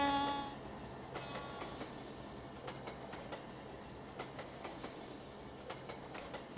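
In the Trainz Android game, the Kakatiya Express runs at full throttle. A brief horn opens the passage, then a steady run follows with regular clickety-clack wheel beats over a low, quiet rumble.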